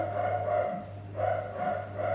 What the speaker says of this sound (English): Can you guys hear the barking?